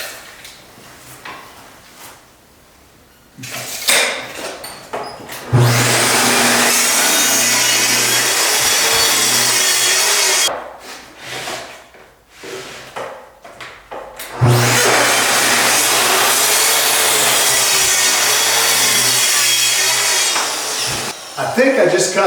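Plunge saw cross-cutting plywood for the bottom of a base cabinet, with two long, loud, steady cutting passes separated by a short pause with handling noise, and a quiet lead-in before the first cut.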